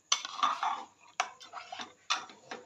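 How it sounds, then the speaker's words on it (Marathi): Barnyard millet stirred into hot water in a pot, heard as three separate bursts of metal spoon scraping and clinking against the pot, close and fairly quiet, with short pauses between them. "मग त्याच्यामध्ये ही भगर मिक्स करून घेते."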